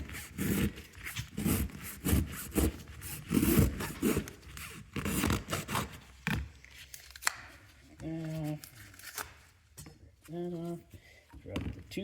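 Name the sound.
cutting open a used Fram oil filter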